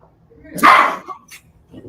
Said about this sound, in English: that's Theo shouting at the little baby puppy here